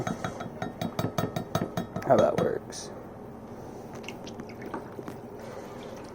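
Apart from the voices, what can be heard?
neem oil poured into a measuring cup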